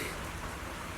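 Steady rain hisses in the video game Zenless Zone Zero, a dense, even wash of falling water with no voices over it.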